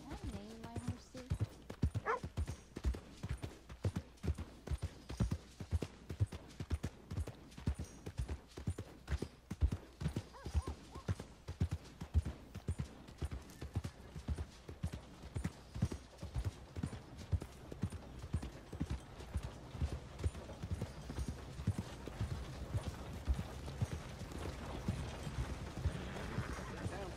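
Horse hooves in Red Dead Redemption 2 clop in a steady walking rhythm, close and clear, continuing throughout while a voice talks at times over the footfalls.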